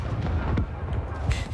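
Explosions go off in Call of Duty: Modern Warfare (2019), heavy low booms rumbling in a dense, continuous blast texture with a couple of sharper bursts partway through.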